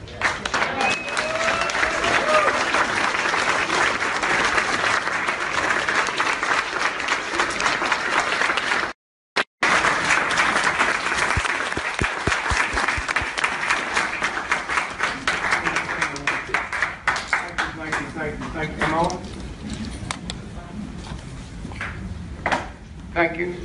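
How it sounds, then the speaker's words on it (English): Sustained audience applause and standing ovation for comedian Dick Gregory, rapid dense clapping from a large crowd that runs on steadily with a brief dropout, thinning toward the end as voices emerge. "give a resounding round of applause and a standing ovation to the Honorable D.Gregory"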